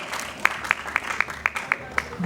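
At an outdoor regional festival event, audience members clap in an even, moderately paced rhythm, roughly eight distinct claps standing out over a low crowd murmur.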